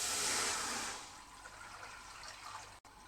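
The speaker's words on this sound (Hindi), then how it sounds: "अब आप इसके अंदर पानी डालें।" Water pours into a cooking pot on a stove in a steady rushing stream, loud at first and then easing into a softer continuous splash.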